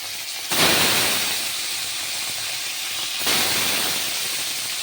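Koi fish dropped into hot mustard oil in a wok gives a loud, steady frying hiss that bursts in at the start and surges again partway through, with no voices.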